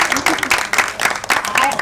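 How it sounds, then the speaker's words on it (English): Applause from an audience at a launch event for 'My Nation My Anthem', a crowd clapping in bursts with a voice speaking over it. "Let's give them a big round of applause."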